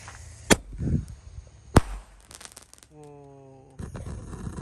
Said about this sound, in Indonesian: Oke, kita nyalakan mercon Sonic Boom.